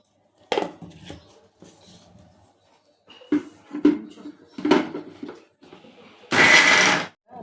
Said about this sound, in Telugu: మిక్సీ పట్టుకోండి